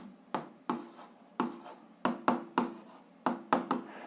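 Hand-written strokes of chalk or marker on a board while working out a seventh-grade algebra exercise, a series of short scratchy bursts in an irregular rhythm, close and fairly quiet, with no talking.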